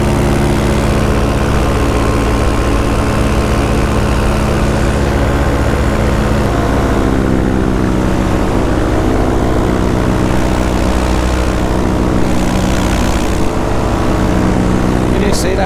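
Paramotor engine and propeller drone loudly and steadily throughout an uphill takeoff from a hillside in gusty, rotary wind, with wind buffeting over the constant roar.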